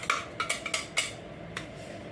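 A spoon scrapes and clinks against a pan as roasted semolina is stirred together with powdered sugar for rava laddoo, a quick run of light metallic taps followed by one last clink.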